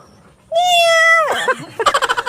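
A person imitates a female cat's meow: one long, drawn-out, rising-then-falling meow, followed by a shorter wavering call, loud and close.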